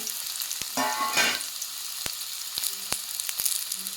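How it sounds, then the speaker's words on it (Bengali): Chandramukhi potatoes, cut and lightly fried in oil with salt and turmeric, crackle in a steady bright sizzle, with a louder burst of frying near the start and scattered sharp clicks of a utensil against the pan. "এবার যে চন্দ্রমুখী আলুগুলো কেটে রেখেছিলাম ওইগুলো হালকা করে ভেজে নেব"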